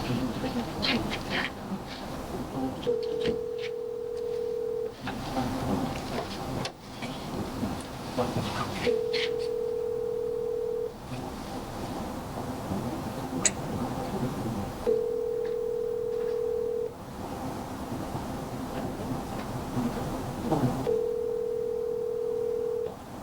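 A phone call placed on speakerphone, with a steady ringback tone repeating four times at regular intervals of about six seconds over a busy background of room noise and faint voices.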